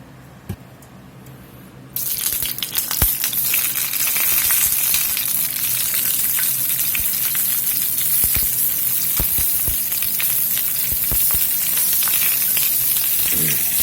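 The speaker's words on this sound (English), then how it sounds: "Get some skillet heating up there, high heat." Oil sizzles in a skillet on high heat while salsa verde is being made, a steady close crackling hiss that swells after a brief quieter start, with scattered pops and clicks throughout.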